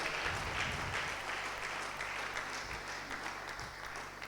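A church congregation applauds after the sermon at a Sunday service, with dense, sustained clapping filling the space at a steady level throughout.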